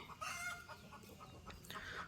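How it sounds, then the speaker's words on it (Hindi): Roosters at Wat Umong temple in Chiang Mai, Thailand cluck and squawk in quick, close bursts, several birds calling over one another in a short noisy flurry. "लगातार मुर्गे ही मुर्गे बोल रहे हैं।"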